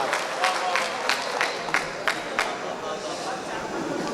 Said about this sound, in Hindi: ज़ोरदार तालियों से उनका इस्तक़बाल।